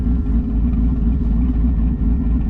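A loud, steady engine roar from a turbocharged car under boost, deep rumbling exhaust droning continuously, close up, with no talk.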